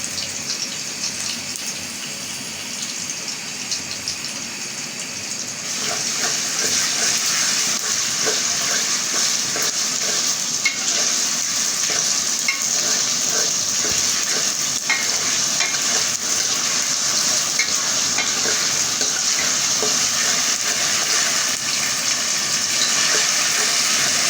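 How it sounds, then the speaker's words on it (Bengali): Onions frying lightly in a pan hiss gently at first, then the sizzle grows louder and steadier, with faint scraping and stirring sounds throughout. "পেঁয়াজটা হালকাভাবে ভাজিয়ে দিলাম"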